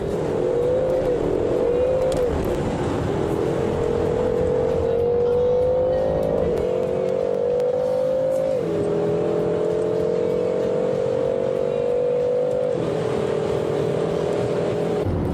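BMW M6 sports car engine revving and accelerating through several gear changes, the pitch rising and dropping repeatedly in a loud, sustained whine heard from inside or close by, without speech.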